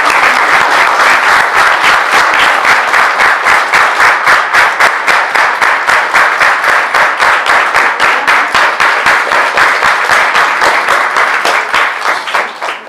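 Church congregation applauding to welcome visiting pastors and guests at a building dedication ceremony in Rolpa, dense sustained clapping from a large crowd that stays loud and even before tapering off at the end.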